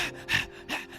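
A man imitates a thirsty deer panting with two quick, close breathy gasps separated by a brief pause.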